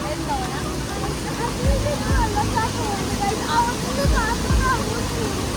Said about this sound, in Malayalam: ആ വെള്ളച്ചാട്ടം താഴെ കൂടി പോണത് കണ്ടില്ലേ